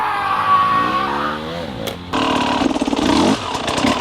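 Two-stroke motorcycle engine lugging at very low RPM, nearly stalling, with an uneven sputtering throb that dips and then picks back up into a louder, choppy pulse, heard close and without talk.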